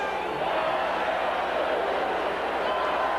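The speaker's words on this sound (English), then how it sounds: "Talking about the noise of the crowd, they've come alive now." A football stadium crowd at the 1979 AFC Wildcard playoff game between the Denver Broncos and Houston Oilers, heard as a constant, loud roar of massed cheering with no pause and a commentator's voice faint beneath it.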